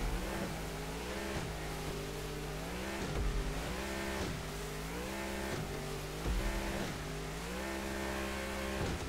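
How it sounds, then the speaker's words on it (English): Car engine in the video game GTA 5 with randomized engine sounds: a continuous synthetic-sounding motor that repeatedly revs up and drops back in regular cycles, fairly loud and steady with no talking. "The engine sounds are also randomized."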